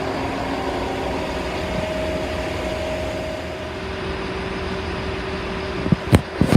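A train rumbles in to platform 3 at Bristol Parkway station at a steady low drone with a faint whine, ending in a few sharp clunks and squeals as it draws to a stop.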